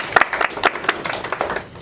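An audience at a community showcase event claps in welcome, a short burst of scattered hand claps from a modest crowd, fairly close.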